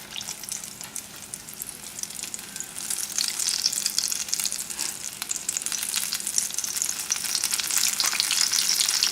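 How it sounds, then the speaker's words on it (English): Creole-style popcorn shrimp frying in hot vegetable oil, a steady close bubbling sizzle that grows busier and louder as it goes, with no talking. "When it's hot, and you fry things at the correct temperature, they won't come out greasy."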